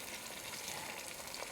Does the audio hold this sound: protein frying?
yes